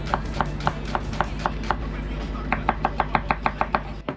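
A knife chops half an onion on a board. Rapid, evenly spaced knocks start at a moderate pace, pause briefly, then resume faster and crisper, over a steady low rumble.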